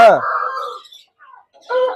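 A rooster crows close by, a loud drawn-out call that fades off, followed after a short pause by a burst of clucking.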